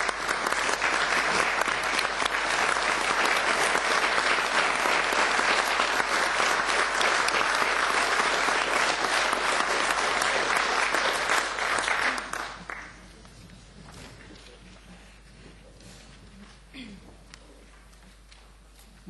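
Council members applaud at a December council meeting, a loud, dense round of clapping lasting about twelve seconds before dropping off abruptly into quiet room tone with a few stray claps.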